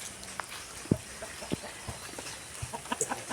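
Chickens and a rooster on a chicken farm give scattered clucks and short calls at varying distances, fairly faint over a steady outdoor hiss, with no talk.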